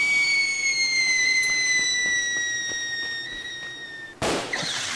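Fireworks whistling in several long, steady rising tones that drift over a few seconds, then a sudden loud burst near the end followed by crackling, with no voices.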